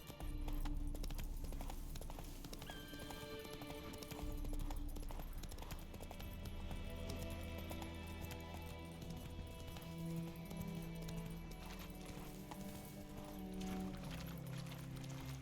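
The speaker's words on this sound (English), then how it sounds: "Run, Roach" Hooves of a horse clip-clop at a steady galloping rhythm in The Witcher 3: Wild Hunt, loud and close over continuous game music, with a brief whinny.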